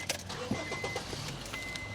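Someone gets into a car and starts it on a street in North Philly's Fairhill neighborhood: soft clicks and a faint jangle, then a brief muffled engine crank, all quiet and close, with no talk.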